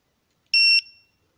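A newly fitted car alarm gives a single short, loud electronic chirp after being armed by remote, ringing briefly and fading in the dark outdoors with no talk.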